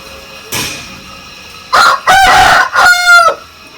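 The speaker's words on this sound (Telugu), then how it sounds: "చూడండి మన దగ్గర కూడా ఉన్న పుంజులు" A game rooster crows loudly nearby at a farm, two or three drawn-out calls in quick succession after a short clucking burst.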